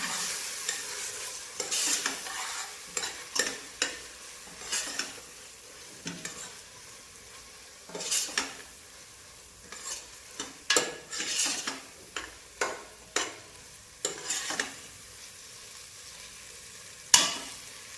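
Masala paste sautéing in a pot for masala khichadi with green tuvar beans, a steady soft sizzle broken by repeated sharp scrapes and clinks of a spoon stirring against the metal.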